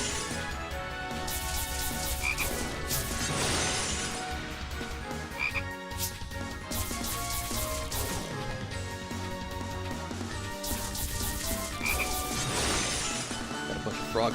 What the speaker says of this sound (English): Got a bunch of frogs to beat up.